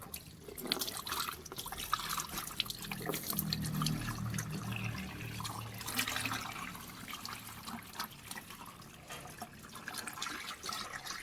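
Water is poured into a homemade air cooler built from an old 20-liter bucket, producing a long, steady gushing and splashing stream at close range without any speech.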